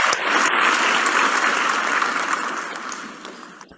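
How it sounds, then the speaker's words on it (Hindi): Audience applause fills a hall during a Hindi entrepreneurial talk, a dense, steady clapping from a large crowd that stays loud throughout and tapers slightly toward the end. "दोबारा से तालियां होनी चाहिए।"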